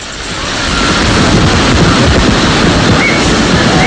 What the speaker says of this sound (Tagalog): Naging matindi ang hanging dinala ng Bagyong Yolanda dito sa Iloilo.